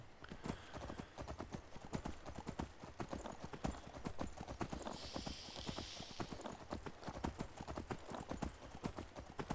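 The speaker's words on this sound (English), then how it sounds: "Hop on my horse. This is my horse." Horse hooves gallop in Skyrim, a fast, dense run of clip-clop beats that continues without a break, with a brief whoosh partway through and a faint voice at times underneath.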